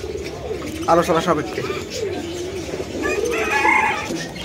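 Homer racing pigeons in a bird shop, cooing in soft, repeated throaty calls close by, while someone talks over them.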